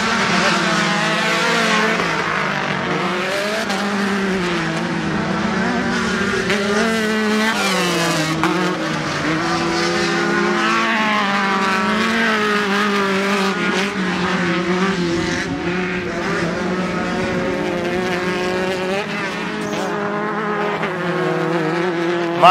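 Race cars roar continuously at the Bark River, Michigan track during a Sportsman class event, engines droning and shifting pitch as they sweep past and over a big hill jump, loud and steady throughout.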